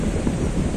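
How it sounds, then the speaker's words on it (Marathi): Sea waves washing onto Rel beach near a small village, a steady broadband rumble of surf mixed with wind buffeting the microphone, continuous and fairly loud with no voices. "हा रेलचा समुद्रकिनारा आहे"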